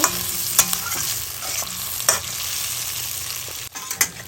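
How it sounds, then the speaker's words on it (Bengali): Spice paste for a fish head and lentil dal fries in oil with a constant close sizzle, punctuated by several sharp scrapes and knocks of a spatula stirring against the pan. "আমি আরেকটু তেল দিয়ে দিই দিয়ে আর একটু কষিয়ে নেব"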